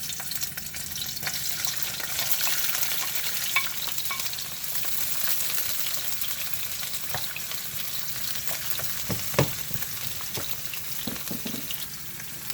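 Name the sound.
vegetables, garlic and sweet pepper frying in a pan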